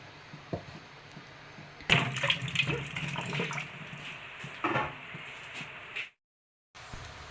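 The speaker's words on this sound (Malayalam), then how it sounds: "ഇതാ നമുക്ക് പാല് പിഴിഞ്ഞെടുക്കാം" Milk is squeezed by hand from grated coconut, making close, wet trickling and splashing bursts that rise and fall before a sudden brief cut to silence.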